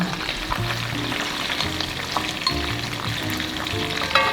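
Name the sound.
onions frying in shrimp oil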